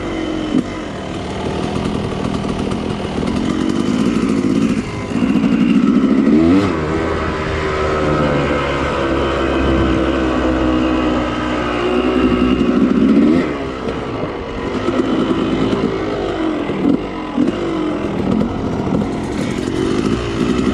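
A motorcycle is ridden continuously, its engine loud and close with repeated revving surges and drops in pitch throughout.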